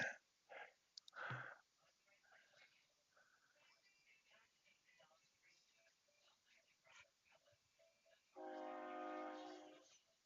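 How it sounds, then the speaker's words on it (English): A train approaches with a steady horn blast near the end of the clip. It sounds fairly distant and mid-loud, and quiet talking and background noise come before it. "We hear the train coming."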